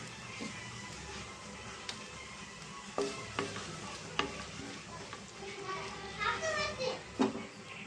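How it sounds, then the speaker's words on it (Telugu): Onions frying in a pan for an eggplant and tomato curry, a steady close sizzle with occasional spoon scrapes and clinks, while children's voices and chatter carry on in the background. "ఉల్లిపాయలు బాగా ఫ్రై అవ్వాలి ఫ్రెండ్స్ కొంచెం గోల్డెన్ బ్రౌన్ కలర్లో వచ్చే వరకు మనం ఉల్లిపాయలు ఫ్రై చేద్దామండి"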